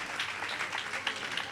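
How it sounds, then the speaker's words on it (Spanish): Applause from a church congregation during a Spanish-language worship service, a steady wash of many hands clapping at moderate volume, with no talking over it. "Dale tu aplauso al Señor"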